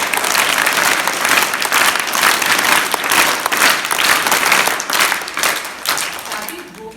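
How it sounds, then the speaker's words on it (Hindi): A crowd at a welcome gathering claps heartily, loud, sustained dense applause with some swelling and faint voices mixed in, tapering slightly at the end. "ताली बजाओ अच्छी से।"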